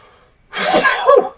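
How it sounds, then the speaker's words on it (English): A single loud, close sneeze bursts out after a brief quiet moment. "I'm going to sneeze."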